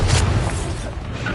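Bombarda explosion spell in Hogwarts Legacy, a short loud boom with a deep thump and a bright burst at the start, then a fading rumble, no talking.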